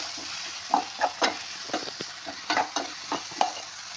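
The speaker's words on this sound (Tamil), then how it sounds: "சின்ன சீரகம், இதை இந்த நேரத்தில் இந்த எண்ணெயில் போட்டு பொரிச்சிக்கலாம்" Cumin seeds crackle and sizzle in hot oil in a pan, with a steady frying hiss broken by several sharp stirring clicks and pops, close and moderately loud, no talking.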